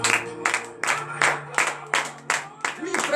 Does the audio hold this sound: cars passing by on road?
no